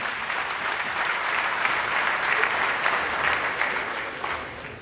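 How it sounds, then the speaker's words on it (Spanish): Sustained applause from a conference audience at a Latin American teachers' gathering, a dense steady wash of many hands clapping that holds evenly throughout. "Recibimos con un fuerte voto de aplauso."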